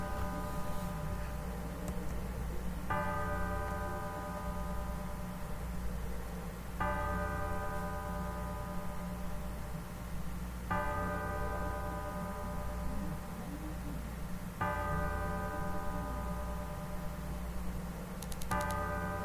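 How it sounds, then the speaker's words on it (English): Bell tolling in the video game Bad Faith, five slow, evenly spaced resonant strikes about four seconds apart, each ringing out over a low steady ambient drone. "The bell rings."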